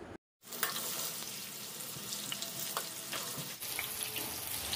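Cut potatoes frying in hot mustard oil, a continuous close crackling sizzle after a short silent gap at the start, with small pops and stirring scrapes throughout.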